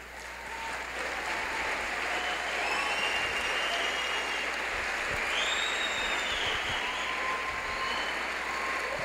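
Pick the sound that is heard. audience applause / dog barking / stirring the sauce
audience applause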